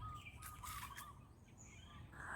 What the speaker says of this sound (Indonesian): sekitar sini juga kita masih bisa mendengar dengan seksama suara burung-burung yang bertengger di atas pohon-pohon